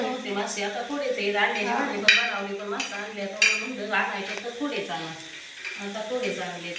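Oil sizzles and crackles steadily in a hot iron griddle, with occasional sharp clinks of a utensil against metal.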